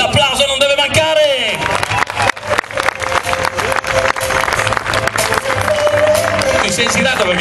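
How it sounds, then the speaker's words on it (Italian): Crowd applause at the podium ceremony of the 8th Rally di Majano, a dense steady clapping texture mixed with cheering and background voices, loud and continuous, with music or announcer speech over it. "L'applauso non deve mancare."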